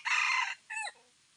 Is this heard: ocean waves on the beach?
no